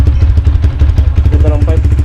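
Rusi Titan 250FI motorcycle engine and exhaust idling up close, a loud, steady low throbbing pulse with a fast, even beat that fills the whole stretch.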